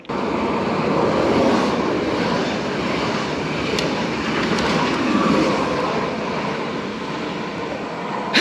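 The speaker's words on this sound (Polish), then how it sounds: "Pociąg jedzie do Nowego Sącza" A train bound for Nowy Sącz rumbles past a station steadily for several seconds, a loud continuous roar with faint clanks, no voices.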